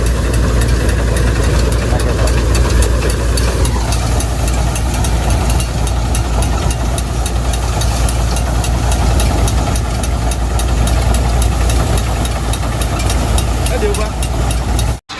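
Tractor engine idling at a farmhouse during groundnut harvest, a steady loud low rumble with a slight knocking beat running throughout, with faint voices underneath.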